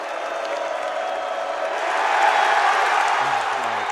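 A basketball arena crowd applauds and cheers during a game between Oakland and Michigan State, a steady, broad roar of clapping that swells midway, with a voice briefly heard at the end.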